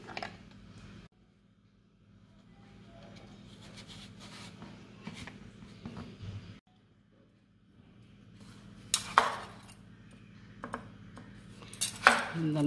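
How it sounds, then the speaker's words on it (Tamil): A knife scrapes and slices through a yellow pumpkin as its skin is peeled off and the flesh cut into pieces, quiet intermittent scraping strokes with a few sharper knocks of the blade on a board. "இந்த தோலெல்லாம் சீவி எடுத்துட்டு துண்டு போடுவோம்."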